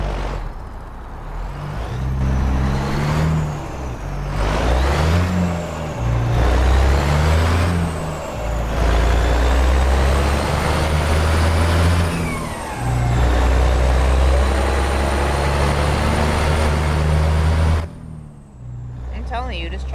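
A heavy truck in American Truck Simulator with realistic mods drives along, its loud engine droning and rising and falling through gear changes with a high whine on top, and a voice talks over it until it cuts off near the end.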